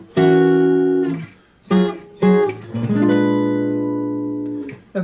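A guitar chord is strummed several times, each ringing out, with a final chord sustaining and slowly fading.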